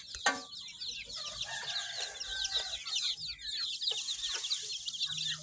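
A yard full of domestic village chickens clucks continuously in a busy overlapping chatter, with some louder calls standing out among the flock at moderate distance, alongside rural outdoor ambience.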